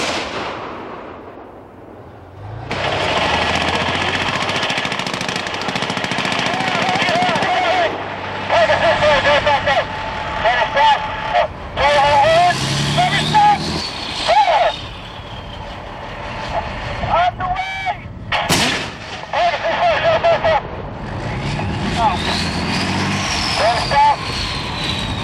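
A tank main gun fires during a live-fire gunnery run, with heavy booming blasts and rumbling engine noise under repeated crew radio commands, some blasts close and loud, others followed by long decaying rumble.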